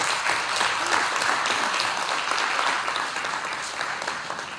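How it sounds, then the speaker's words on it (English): An audience gives a round of applause at an event, dense and loud, sustained clapping that holds steady before easing slightly toward the end. "And I want you to give her a round of applause"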